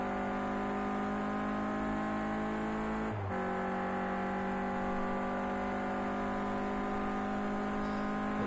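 Onboard engine of a Renault Clio Cup race car on a circuit lap, a loud steady high-revving drone with a brief dip and gear change partway through, constant and close.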